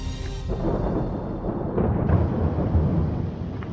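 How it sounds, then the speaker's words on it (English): Low, rolling rumble of thunder in the Smoky Mountains near Alum Cave, building across a few seconds, fairly loud and steady, with no voices. "we heard a rumble in the sky"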